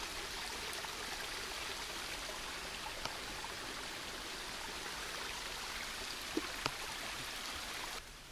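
A river clogged with plastic waste flows with a steady, close rushing and trickling wash, with a few faint ticks and drips. No one speaks.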